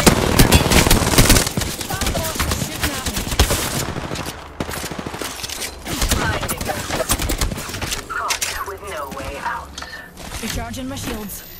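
Sustained automatic gunfire in Apex Legends, dense rapid shots nearly continuous throughout, loud and close, with brief pauses and short callout voices mixed in.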